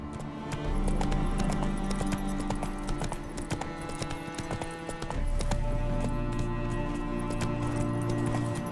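Horse galloping in The Witcher 3, rapid rhythmic hoofbeats with some jingling tack over continuous game music, steady and fairly close for the whole stretch.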